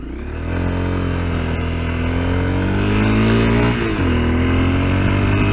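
A Honda CRF250L dual-sport motorcycle accelerates near the microphone, its engine note climbing steadily through a gear, briefly dipping at a shift, then pulling on loud and buzzing.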